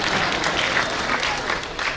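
Audience applause at a speech by actor Vivek, a dense, loud burst of many hands clapping that holds steady throughout.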